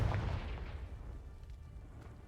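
A Confringo spell blast in the Hogwarts Legacy video game hits as one deep, booming burst at the start, then fades into a long, low rumbling decay with no voices.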